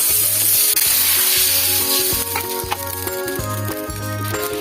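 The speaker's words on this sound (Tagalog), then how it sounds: "And stir in our soy sauce, red wine vinegar, and our beef stock mixture." Soy sauce, red wine vinegar and beef stock being stirred into a hot frying pan with tomato for Peruvian lomo saltado, giving a loud continuous sizzle with scraping and faint clinks, under a steady musical background.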